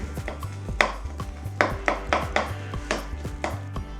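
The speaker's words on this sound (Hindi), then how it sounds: "अब हम टमाटर को अच्छी तरह से मैश करेंगे इसमें" Cooked, peeled tomatoes being mashed in a pan for a restaurant-style bhindi fry: a steady series of close, soft pressing and tapping knocks against the metal, roughly two or three per second, with no voices.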